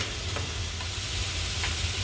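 Onions and peppers frying in olive oil for Cuban-style chicken fricassee: a steady, dense sizzle and hiss, close and even, with faint stirring, and no talk.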